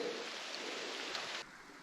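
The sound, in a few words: rain falling during a bush hike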